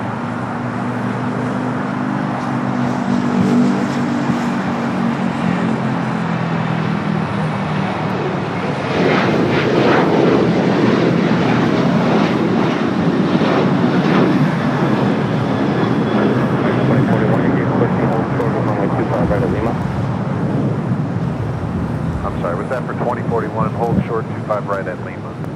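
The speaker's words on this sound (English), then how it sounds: "Next takeoff, American Airlines Flight 2301" An American Airlines jet takes off at Los Angeles airport, its engine roar swelling and staying loud and sustained, with a voice talking over it.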